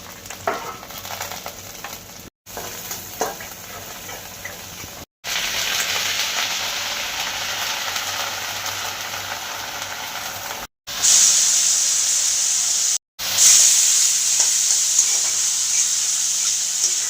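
Pointed gourd and potato fry in hot oil in a pan, giving a loud steady sizzle that carries on for several stretches, cut by brief gaps and swelling to a sharper hiss toward the end, with no talk.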